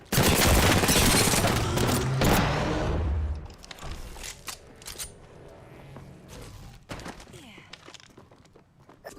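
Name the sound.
enemy gunfire in a video game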